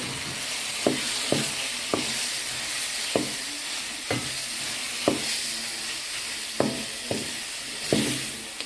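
Pork fries in tomato paste in a pan, a hissing sizzle punctuated by about a dozen regular utensil knocks and scrapes, close up and with no speech.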